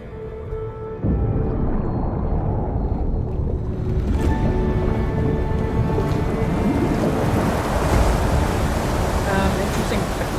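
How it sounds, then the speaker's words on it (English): Water drains from a flooded area in the video game Horizon Forbidden West, a steady loud rushing and gurgling that starts after about a second and continues throughout, with rumbling low tones. "Time to dry this place out. Alright, gonna drain the place."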